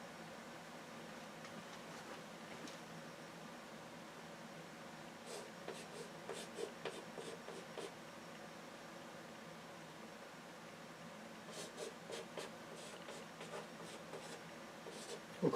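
An equation is being written out by hand, with faint scratchy strokes in short bursts over a steady background hum of fan or air-conditioning noise, quiet and close, no voices.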